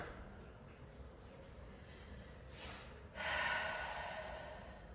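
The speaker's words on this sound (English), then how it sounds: "Inhale and exhale." Breath during a yoga flow, a long soft airy inhale that swells into a louder, fuller exhale, close and intimate with no words.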